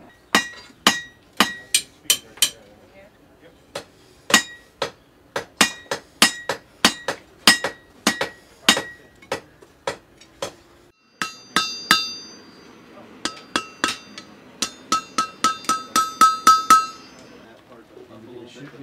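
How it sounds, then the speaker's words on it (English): Hot metal hammered on an anvil while forging a hand tool, sharp ringing clangs in irregular runs, faster and brighter near the end, close and loud with no talk. "the same thing that I'm doing on the top of this and I'm hammering it is happening on the bottom of it"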